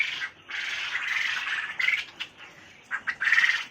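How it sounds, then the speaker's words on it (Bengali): Quail on a quail farm give repeated squawking, chirping calls, fairly close and overlapping in irregular bursts, with no talking. "কোয়েল পাখিগুলো"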